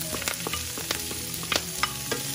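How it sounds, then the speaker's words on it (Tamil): Onions sautéing in a pan for Chettinad-style mutton liver pepper fry, a continuous sizzle with repeated scraping stirs and light clicks of the spoon, close and unaccompanied by speech. "வெங்காயமும் நல்லா வதக்கிடுங்க"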